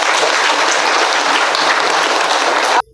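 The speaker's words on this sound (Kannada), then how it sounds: "ಅವ್ರಿಗೊಂದು ದೊಡ್ಡ ಚಪ್ಪಾಳೆ ಬರಲಿ." An audience at a first-anniversary gathering and vegetarian rally in Gauribidanur claps loudly in dense, sustained applause that cuts off abruptly near the end.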